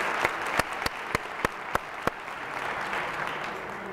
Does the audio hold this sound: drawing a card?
no